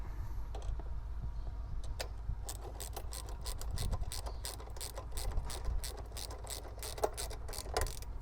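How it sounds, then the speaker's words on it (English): A ratchet with a 10mm socket works a crash bar bolt on a Husqvarna 701 motorcycle, giving a rapid, even series of sharp close clicks from the pawl with a few brief pauses. "on the exterior side of the tab, I will be using a ratchet and a 10mm socket"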